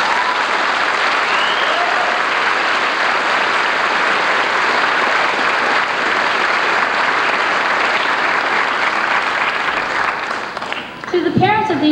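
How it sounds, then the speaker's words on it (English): A crowd applauds at a 1991 Stanton high school graduation ceremony in a large hall, with loud, sustained clapping that holds steady before tapering off as a voice begins speaking at the end. "Please give them a round of applause."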